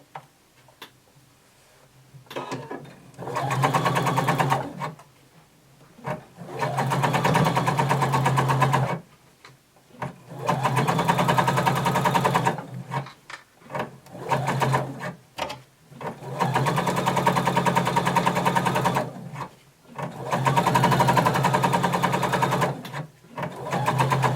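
A sewing machine bastes the seam allowance of a flared skirt in several long runs, a close, steady mechanical whir broken by short pauses between bursts, with no talking.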